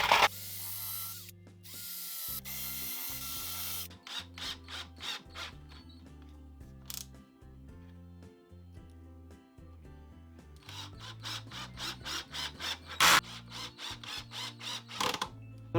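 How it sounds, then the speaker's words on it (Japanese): A power drill driving 25mm coarse-thread screws into a Daiso-based router table build, a series of whirring motor bursts with ratcheting clicks, close and moderately loud, stopping and starting several times. "25mm のコーススレッドというのがあります。これで留めていきます。"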